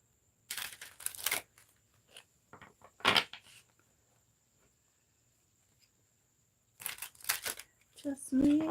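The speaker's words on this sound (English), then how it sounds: "just me shuffling cards." Playing cards are shuffled in a few short, crisp riffling bursts separated by quiet pauses, close up, with quiet talk in between.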